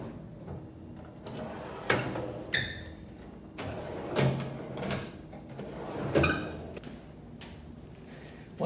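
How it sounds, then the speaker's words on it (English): Drawers on a new U.S. General single-bank blue steel roller cabinet slide open and shut several times, each travel ending in a soft metallic knock, close by in a quiet room. "Drawers slide just fine."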